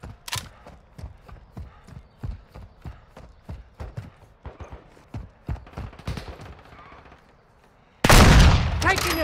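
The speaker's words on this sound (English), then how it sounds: "Taking effective fire!" Gunfire in Call of Duty: Modern Warfare II, a steady run of sharp single shots and short bursts, some close and some more distant, ending in a loud dense burst of noise near the end.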